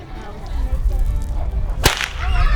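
A single sharp cattle whip crack rings out loudly amid outdoor background noise, with no voices over it.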